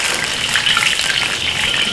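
Spice paste sizzles in a hot pan as it is sautéed, a loud, continuous crackling hiss held close and steady with no talking over it.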